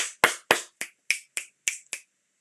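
A livestream host snaps their fingers about eight times in a quick, fairly even rhythm over two seconds. Each snap is crisp, close and loud, with silence between them.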